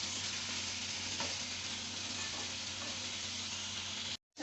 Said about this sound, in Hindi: ये देखें जी, हमने चिकन ऐड कर दिया और अब इसको ज़रा मिक्स कर देंगे